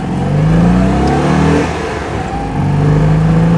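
A Citroën 2CV's newly fitted engine revs up close, not taken to full revs, rising and easing off in two pushes with a brief dip between, loud and droning.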